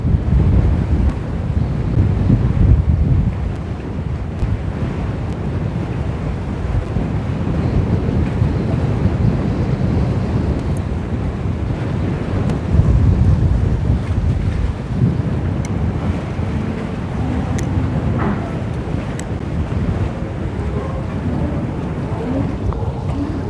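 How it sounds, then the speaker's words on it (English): Steady, blustery storm wind roars across the microphone with low buffeting gusts, over a wash of water and surf at Busselton, Western Australia, continuous and loud throughout. "Yep, it's a bit windy."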